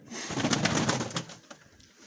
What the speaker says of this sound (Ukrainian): Ну, красива голубка. Це голуб.